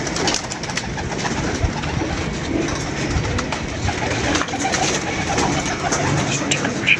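Several pigeons kept in a loft coo continuously, a low rolling murmur of overlapping calls nearby, with no one speaking.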